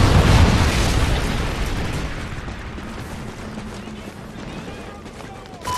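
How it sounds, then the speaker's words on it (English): A Trinity rocket explosion in a video game opens with a loud, deep boom that slowly decays into a long rumbling roar, fading under continuous battlefield noise. "Friendly Trinity rocket inbound."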